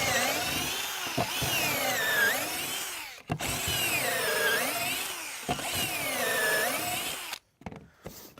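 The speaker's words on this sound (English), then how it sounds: "stick it into our jig like this, clamp them in, and drill our holes" A power drill whirs in three long bursts, each winding up and bogging down as it bites into wood drilling pocket holes in a jig, separated by brief pauses, close and loud.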